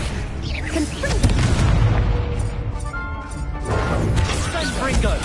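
Explosive Confringo spells cast in a wizarding video game, with a series of loud booming blasts and crashing bursts following one another closely, mixed with voices.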